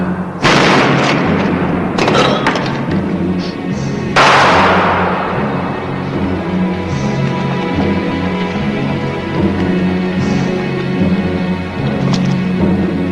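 Gunshots fired into the air in a western film, several loud sharp cracks with booming echoes spaced across the scene over a steady background rumble.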